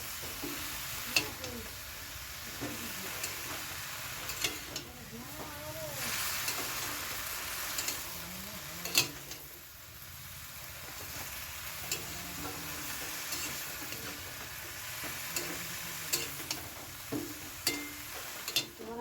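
Water lily stems with salt and turmeric are stirred in a pan, a soft ongoing sizzle of wet frying with intermittent scraping and clinking of a spatula against the pan, fairly quiet and close.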